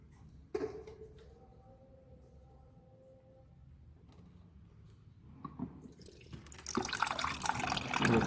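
Clean water running out of a scooter's radiator during a coolant flush, a steady liquid flow that starts after a sharp splash, stays low and grows into a loud, broad gush near the end.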